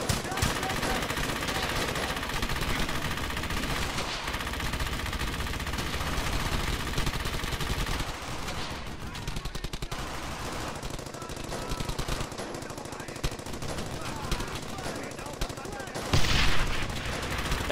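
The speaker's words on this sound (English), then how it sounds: "good, we need the MG." Machine gun fire rattles in the World War II video game Brothers in Arms: Hell's Highway, dense rapid bursts and heavy gunfire running nearly continuously with loud battlefield noise and occasional speech mixed in.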